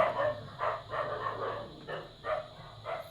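A dog barks outside in short repeated bursts somewhere at a distance, roughly six yips spread over a few seconds against a low steady hum.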